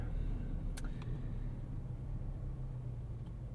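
Inside a 2023 Chevrolet Colorado Trail Boss pickup driving around a city block, a steady low road and engine rumble fills the cabin, with a couple of faint brief clicks.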